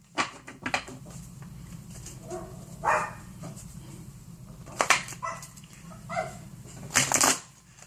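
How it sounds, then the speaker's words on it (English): Dogs bark in short scattered bursts, some doubled, at moderate distance, over a constant low hum and light handling noises. "Excuse the dogs barking."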